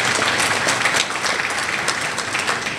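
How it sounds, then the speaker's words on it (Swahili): A crowd applauds at a public housing event in Zanzibar, with dense, continuous clapping that stays loud and even before easing off slightly partway through. "Naomba tumpigieni makofi tafadhali."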